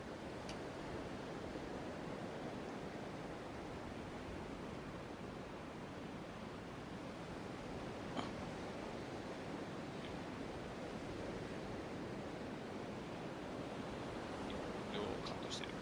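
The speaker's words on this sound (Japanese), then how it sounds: "風の音うるさいから" Steady wind roars while a character parachutes in PUBG, a constant broadband rush that stays even throughout, with a few faint clicks on top.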